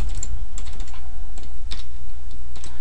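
Someone types a password on a computer keyboard, with close, crisp key clicks in quick irregular bursts and brief pauses, and no talk.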